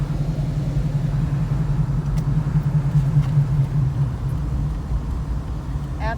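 A car's engine rumbles steadily from inside the cabin, a loud, constant low drone with no breaks.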